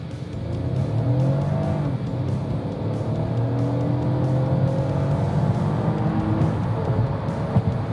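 A Toyota Camry engine roars steadily, revving and rising in pitch as it accelerates, loud and close with no voices.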